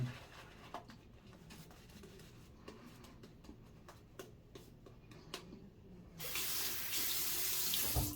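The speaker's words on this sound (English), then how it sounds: "Add some more water." A tap opens and water gushes loudly into a sink, following quieter clicks and small handling sounds.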